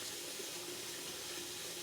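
Running water from a kitchen faucet pouring into the sink while dishes are washed, a constant, close, rushing hiss with no other sounds.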